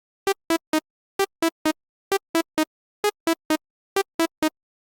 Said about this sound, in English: this is the saw wave wavetable when you open up Serum